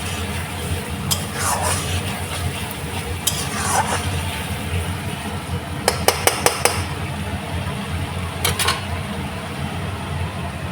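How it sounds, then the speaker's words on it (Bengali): Boal fish curry being stirred in a pan: a steady low sizzle with sharp metallic clinks of the spoon against the pan, including a quick run of taps in the middle, and no talking. "এটা ভালো করে নাড়িয়ে দেবো"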